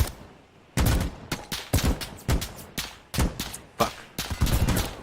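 Rapid bursts of gunfire from an Insurgency Sandstorm beta match, loud overlapping volleys crackling in quick succession over about five seconds with only brief gaps.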